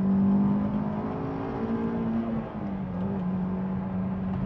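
A Honda S2000 with Spoon rigid collars drives along a winding mountain road, its engine humming steadily from inside the cabin with a slight dip and recovery in revs.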